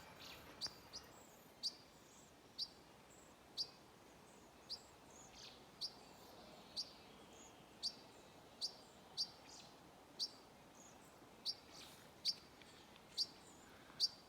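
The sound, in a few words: small bird calling from a tree, likely with young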